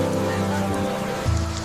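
Steady rain falls in an animated story, a dense even wash of drops on surfaces that stays loud and continuous throughout.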